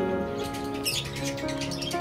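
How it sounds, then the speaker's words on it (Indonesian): Colourful birds chirp and squawk at a petting farm in De Hout, Alkmaar. Their bright calls come in quick bursts over a steady tonal hum, moderately loud and close. "Di taman kanak-kanak ini juga ada macam-macam burung"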